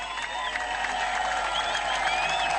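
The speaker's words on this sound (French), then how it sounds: "Acclamons fort, acclamons trop fort" A crowd at a tribute gathering in a village applauds and cheers steadily, with a dense, continuous wash of clapping and voices and no breaks.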